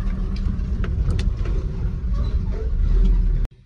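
A car pulls away past a railway gate under repair, its engine rumbling loud and close as it accelerates before cutting off abruptly at the end.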